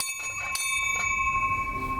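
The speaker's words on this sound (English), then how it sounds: "you just ring this bell." A river ferry's call bell rings with a clear, sustained metallic tone, struck a few times in quick succession, then lets its ringing fade against faint background noise.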